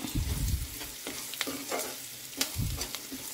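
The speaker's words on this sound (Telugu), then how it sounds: "ఉప్పు వేయంగానే ఆనియన్స్ మంచిగా మగ్గుతాయి" Salted onions fry in a pan with a soft, steady sizzle, and a spatula stirs and scrapes through them in short, uneven bursts.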